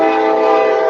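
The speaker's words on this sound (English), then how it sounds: "Train!" A loud, sustained train horn blares close by as a train passes, a steady tonal blast that fills the short moment on its own.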